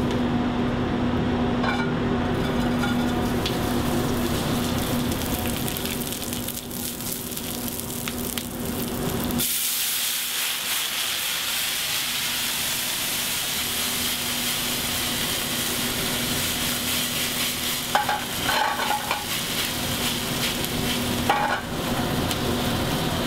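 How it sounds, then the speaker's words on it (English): Chilies toast in a hot pan and are deglazed with sherry vinegar, a dense sizzle that drops suddenly, then swells into a steady steaming hiss with occasional stirring scrapes. "toast the chilies and then deglaze it with the sherry vinegar"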